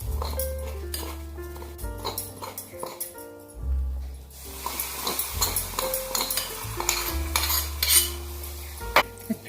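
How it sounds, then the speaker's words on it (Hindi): Metal spoon clinks and scrapes inside a pot as tadka masala is stirred into a Maharashtrian village-style aalan vegetable curry; close, irregular clattering strokes over a steady tonal background. "अभी ये सब्जी में हम डाल देंगे अपना"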